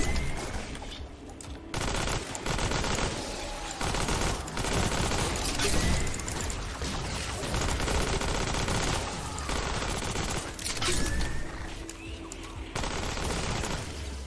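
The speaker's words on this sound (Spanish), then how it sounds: "estar ahí con disparos de los pistoleros" Rapid bursts of automatic gunfire from enemy gunners rattle almost nonstop, loud and close, with brief pauses between volleys in Fortnite: Save the World.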